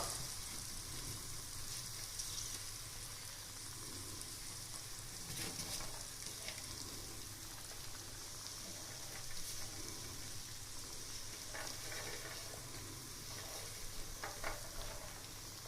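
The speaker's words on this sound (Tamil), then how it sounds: "இந்த மாதிரி எல்லா வெஜிடபிள்ஸையும் சேர்த்து கொஞ்சமா இந்த வெஜிடபிள்ஸ்க்கு தேவையான அளவுக்கு உப்பு சேர்த்து வதக்கி" Onion and mixed vegetables sautéing with salt in a pan for vegetable aval kuzhi paniyaram, a steady close sizzle and fry with occasional stirring scrapes, no talking.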